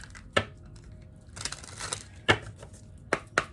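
A tarot card deck being shuffled by hand, giving sharp close riffles and soft slaps that come in separate bursts with short pauses between them, with no talking.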